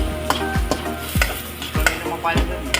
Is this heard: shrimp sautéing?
yes